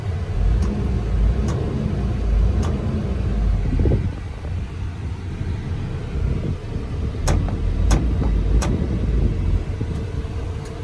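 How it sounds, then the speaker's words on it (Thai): A car engine is revved, giving a low rumbling idle that swells into a brief rev and settles again, heard close and fairly loud with a few sharp clicks. "คันนี้เบิ้ลขึ้นดีด้วย"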